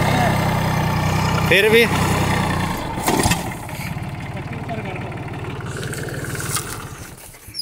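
A Farmtrac Atom tractor hauling a heavily loaded trolley of about 50 quintals of sugarcane, its engine chugging in a low steady idle-to-rev drone throughout, with a sharp knock partway and people talking over it.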